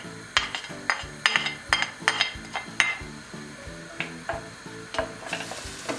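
Onion with red and green peppers sautéing in a pan, a steady sizzle broken by repeated close scraping and clinking of a utensil as the vegetables are stirred, with no talking.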